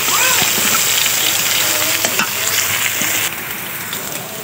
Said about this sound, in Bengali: ওদিকে আলু ভাজা নিতেছি